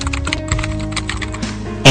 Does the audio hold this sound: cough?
no